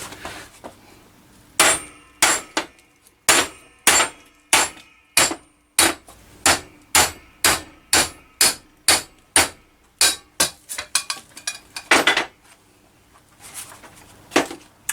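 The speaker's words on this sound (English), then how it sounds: "so there's even more hitting things with hammers" Hammer blows driving a seized bush out of a Triumph motorcycle part, about two dozen sharp metallic strikes in an uneven rhythm, close and loud, with brief pauses and a quick flurry near the end.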